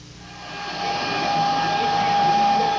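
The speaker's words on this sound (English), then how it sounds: "You know the sounds of the hair salon." A hair dryer blows steadily in a busy modern hair salon, loud and close, with a constant whirring hum that builds slightly at the start.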